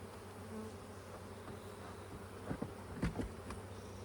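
Honeybees hum steadily around a hive being prepared for queen rearing, a close, continuous drone with a few louder buzzes as individual bees pass near, and no voices.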